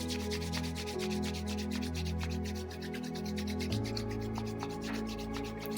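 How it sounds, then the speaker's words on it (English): Palms of the hands rubbed together briskly in a rapid, even rhythm, a close, dry swishing friction that continues for several seconds over a quiet sustained musical tone. "rub your palms together, creating warmth"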